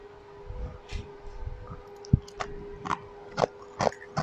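Crisp bites into crunchy caramelized sugar on a pastry tart with a banana sponge base, several sharp crackling crunches spaced irregularly, close and fairly loud with no talking.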